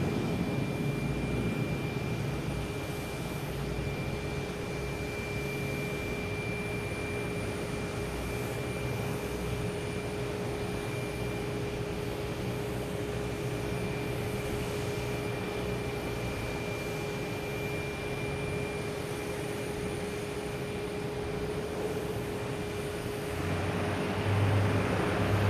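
An American Airlines Embraer E175 jet heading out of Boston Logan gives a steady, distant engine roar and rumble, constant throughout with a faint tonal whine and no talk.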